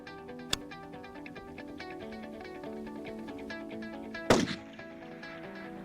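A single sharp, loud rifle shot from a .308 at long range, bursting out near the end over steady background music, with a smaller click earlier on.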